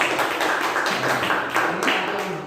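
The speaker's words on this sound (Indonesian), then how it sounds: "Oke, berikan tepuk tangan lagi untuk yang bertidur ya." A group of students in a school counselling session clap their hands together, a dense, steady round of claps close by, with no voices over it.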